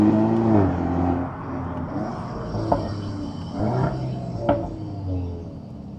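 A Volkswagen Golf R Mk8 accelerates through gears, with engine pitch rising and then dropping at each shift, plus a couple of sharp pops; moderately loud and close with no talk.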